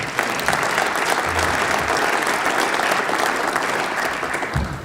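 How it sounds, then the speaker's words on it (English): Applause from a banquet audience at a high school hall of fame dinner, a sustained wash of many hands clapping at even strength from start to finish, with no voices standing out. "Give this man a round of applause, please."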